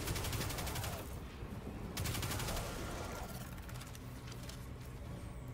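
Automatic weapon fire in Destiny 2: Shadowkeep, fairly quiet rapid bursts of shots in the first few seconds with a brief pause, then fading into a lower rumbling background.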